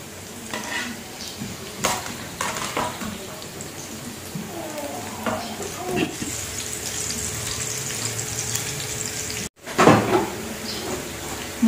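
Garlic added to fragrant shallots frying and sizzling in a pan, with stirring and scraping, a clatter, and a burst of louder sizzle near the end, while a voice speaks at times.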